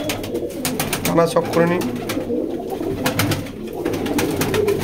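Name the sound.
Rampuri pigeons cooing in a loft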